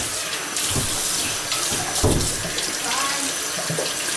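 Water runs from a tap over a dirty makeup brush being washed, a loud continuous splashing rush with squelching and dabbing sounds.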